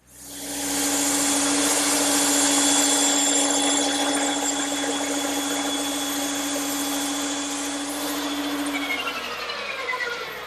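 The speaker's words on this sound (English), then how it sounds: "I'm ready to cut them on the bandsaw" A bandsaw runs steadily with a loud, constant mechanical whine as it cuts wooden Adirondack chair pieces from blanks, then winds down near the end.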